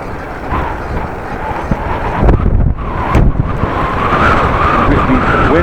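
Very heavy wind roars and buffets the microphone continuously while riding a bike on a warm day, loud, broadband and gusting throughout with no speech.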